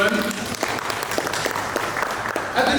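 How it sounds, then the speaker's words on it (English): Audience at an Australia Day event of the Australia-China Business Council applauds, steady close clapping with a few voices mixed in and a louder swell near the end. "Another round of applause, please, ladies and gentlemen."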